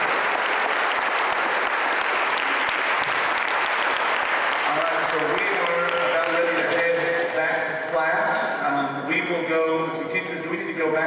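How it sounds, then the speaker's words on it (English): A school assembly audience applauds student speakers at a Black History Month event, with loud, full clapping for about five seconds before it thins out and gives way to people talking. "Let's give everybody one more round of applause."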